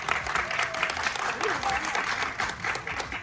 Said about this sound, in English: Let's give a big round of applause for the cast here with us today, Tabish Hashmi and Fahad Mustafa